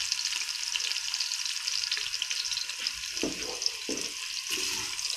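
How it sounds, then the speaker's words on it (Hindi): Ginger and green chili paste fries with browned onions in a pan. A loud, dense sizzle fills the scene, with a few scraping stirs and a wetter burst as the paste goes in, heard close and without speech. "अब हम इसमें अदरक और सब्ज़ मिर्च का जो पेस्ट है वो शामिल कर देते हैं।"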